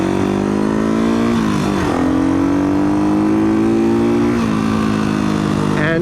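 Riding a 1970s Honda CL360 motorcycle, its engine buzzing loud and close with revs that dip and climb again, a voice talking over it.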